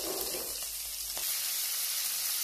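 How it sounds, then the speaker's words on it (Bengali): Kuche fish (eel) frying in hot oil, a steady loud sizzle and hiss running throughout with no talking. "এখন আমি মাছগুলোকে ভেজে নেব।"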